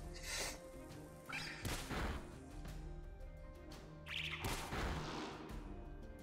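Pokémon Purple battle hit from the move Tackle: two sharp smacking impacts a few seconds apart, each with a short rushing swish, over quiet game music.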